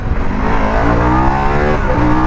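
A 2021 Harley-Davidson Pan America motorcycle accelerates hard in first gear, its loud, close engine roar climbing steadily in pitch without a break, with no voices.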